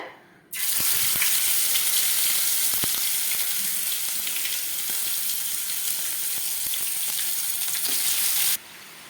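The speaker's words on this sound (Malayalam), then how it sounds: "നമുക്കിനി ഇതിലേക്ക് നമ്മുടെ ചിക്കൻ എല്ലാം അവിടെ ഓരോന്നോരോന്നായിട്ട് ഫ്രൈ ചെയ്തെടുക്കാം, ചിക്കൻ ഷവർമ ഉണ്ടാക്കാനായിട്ട്" Chicken pieces sizzle in sunflower oil in a pan, cooked for homemade chicken shawarma. A loud, steady frying hiss runs almost the whole clip with small crackles and pops, starting abruptly and cutting off near the end.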